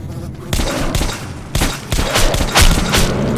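Shotgun fire in the video game Metro Last Light, each shot loosing two shells at once: a rapid run of loud, close blasts about half a second apart, with sharp broadband bursts and low booming tails.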